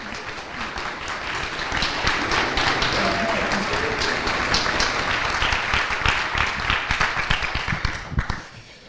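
A conference audience at a closing plenary session gives sustained applause, a full roomy clatter of many hands that swells, holds steady, then tapers off abruptly near the end.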